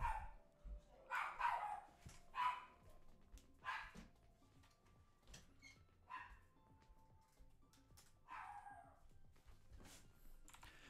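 Dogs barking indoors in the background of a live trading broadcast, repeated short bursts of barks scattered across the clip, fairly faint and somewhat distant, with keyboard typing and quiet room noise.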